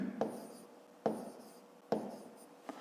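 Pen strokes scratch across paper as numbers are written by hand for a fifth-grade maths exercise, three distinct bursts of close, quiet scribbling with brief pauses between, no talking.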